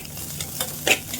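A spoon stirring egg fried rice in a hot pan, soft scraping strokes over a low sizzle with a couple of sharper scrapes near the end, close and fairly quiet with no talk.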